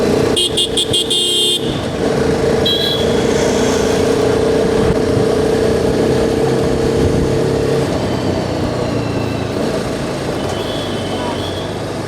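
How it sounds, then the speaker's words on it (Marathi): A quick series of short horn beeps from a TVS Apache RR 310 motorcycle at the start, then steady engine and road noise carries on underneath. "हॉर्न पण डिसेंट ऐकायला भेटतं आपल्याला"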